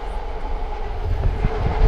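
A vehicle passes on a city street in downtown San Francisco, a steady loud rumbling roar that builds slightly toward the end, with a train-like clatter and no talking.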